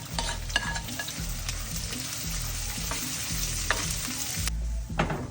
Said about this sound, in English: Let's start by sauteing garlic. Let's also saute our onions.